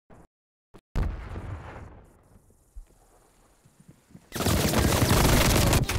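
Hostile sentry turret gunfire in a video game: short bursts at first, then a long, loud and dense stretch of rapid automatic fire that fills the end of the clip.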